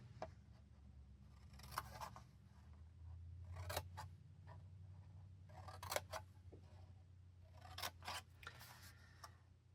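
Paper is cut along score lines for a handmade paper-craft box, giving a faint series of short snips and scraping cuts spaced irregularly over a low background hum, close by with no talking.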